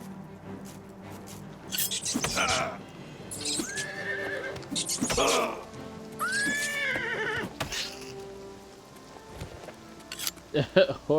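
A horse in the video game Oblivion whinnies several times with rising and falling neighs, mixed with clip-clop hooves and other game sounds, some voice-like noise in between.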